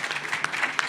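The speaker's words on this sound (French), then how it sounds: "On peut vous applaudir bien fort" Applause from an audience at a regional business succession event in Provence, a brief dense patter of clapping at steady moderate loudness throughout, with no voices over it.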